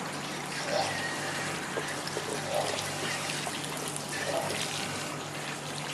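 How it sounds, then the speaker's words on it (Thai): Water is poured steadily over a Sony Xperia Z phone in a waterproof test, a continuous broadband wash of splashing with faint periodic surges and a low hum beneath. "เดี๋ยวมาดูกันว่า โดนน้ำแล้วจะเป็นยังไงบ้างนะคะ"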